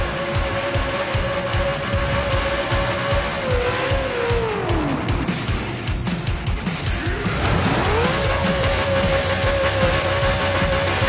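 A race car at a Daytona race event spins its tires in place to warm them, then launches. The engine drones steadily and loudly, its pitch sagging and broadening mid-run amid tire noise before climbing back to a sustained high tone.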